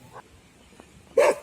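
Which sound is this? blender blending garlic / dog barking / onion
dog barking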